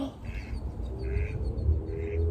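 A mallard duck quacks three times at a steady pace, moderately close, over a low outdoor rumble.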